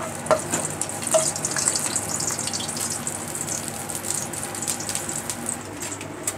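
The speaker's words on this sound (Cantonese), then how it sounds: "爆香啲薑片先。" Ginger slices frying in a pan while vegetables for a carrot and stem lettuce stir-fry wait, giving a steady close sizzle with faint scraping stirs and no talk.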